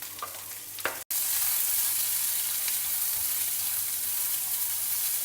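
Chopped cluster beans sauteing in hot oil in a pan, a steady loud sizzle after a short stirring clatter and a sharp knock near the start.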